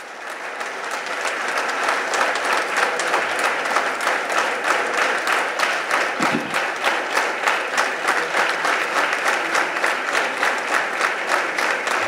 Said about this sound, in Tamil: எனவே அவருடைய வருகையை சிறப்பு செய்யும் விதமாக 1 நிமிடம் நாம் இடைவிடாத அவருக்கு ஒரு கைத்தட்டு கொடுக்கணும்.